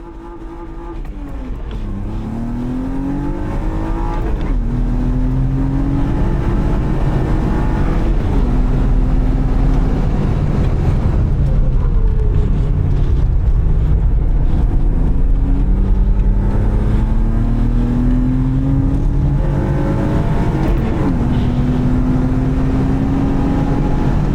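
A car's engine is heard from inside on an autosprint run, rising and falling as the driver revs up through the gears and lifts off in repeated cycles. The engine sound is loud and continuous throughout, with no talk.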